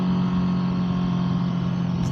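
Honda CBR650R motorcycle engine running steadily, a loud continuous mid-pitched hum with a strong low tone, close and unbroken for the whole moment with no talk.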